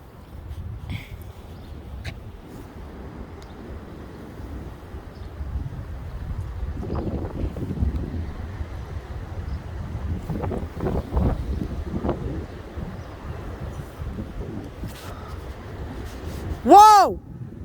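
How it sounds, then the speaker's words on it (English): Strong, gusty straight-line wind buffets an outdoor microphone in a steady low roar that swells in several surges, with faint brief voices and a short tonal squeal near the end. "Whoa! Straight line wind right there."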